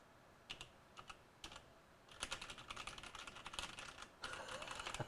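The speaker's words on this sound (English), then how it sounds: "Wonder if that works on pressing the keys." Keys clicking on an RGB gaming keyboard: a few spaced single presses at first, then a brisk run of rapid typing clatter, close and crisp, with no talking.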